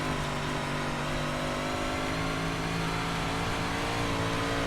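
Dirt 358 modified race cars in iRacing roar continuously at close range, their engines holding a loud, steady, droning pitch with no pauses.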